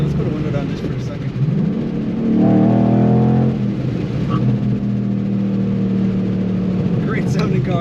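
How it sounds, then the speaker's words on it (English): 2012 Ford Mustang Boss 302 engine heard from inside while driving, a steady rumble that swells loudly for a second or two mid-clip before settling back to a cruising drone. "Great sounding car. Hopefully you can hear that."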